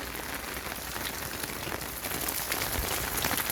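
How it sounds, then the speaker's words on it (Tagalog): Steady rain falls on a rainy day outdoors, a constant even hiss at moderate level with no speech. "Ngayon ang maulan."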